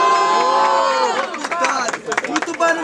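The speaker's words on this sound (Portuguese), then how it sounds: "Barulhos pra quem curtiu as rimas da Sol" A crowd at a rap battle event in Guarulhos, São Paulo, shouts and cheers for a performer, loud and close, with many voices yelling together in a sustained roar that breaks into choppier bursts.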